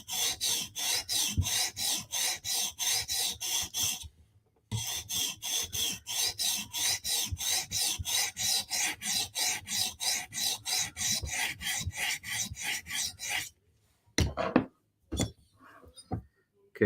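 Vero Synapse and Berg knife blades are drawn across a sharpening stone in fast, even rasping strokes, close and continuous, with a short pause partway, then a few scattered scrapes and taps at the end.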